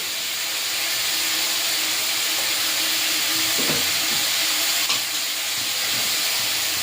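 Spices with coriander and cumin paste and chili powder sautéing in oil in a pan while cooking fish curry village-style, a steady loud sizzle and hiss with occasional stirring scrapes.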